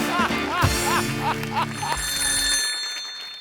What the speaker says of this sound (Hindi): संतोष को फोन लगाया जाए प्लीज